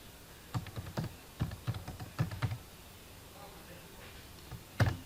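Fingers tap a computer keyboard while typing a website title for an HTML and CSS project, a few quick, quiet keystrokes in short bursts, then a pause and one final clack.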